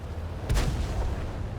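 Tank cannon shot ricocheting off armor in World of Tanks, a single short boom with a sharp crack, fairly close and over steady low engine rumble.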